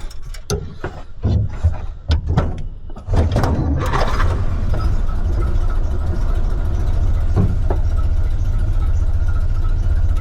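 A 1931 Plymouth engine starts with a few cranking bursts, then settles into a steady, loud idle that runs unbroken close by.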